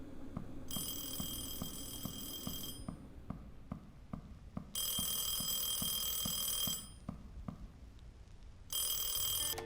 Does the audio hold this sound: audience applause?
no